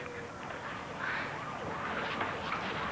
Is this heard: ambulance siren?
yes